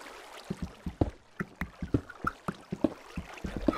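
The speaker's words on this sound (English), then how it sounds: "I hear that water." Rhythmic splashing and sloshing water in Minecraft, like paddling or a stream, with repeated soft surges roughly every half second, moderately close.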